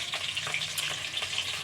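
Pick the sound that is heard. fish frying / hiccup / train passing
fish frying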